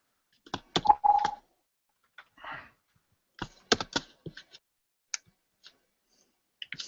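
Fingers type on a computer keyboard up close, with irregular bursts of crisp clicks separated by short pauses in an otherwise quiet room.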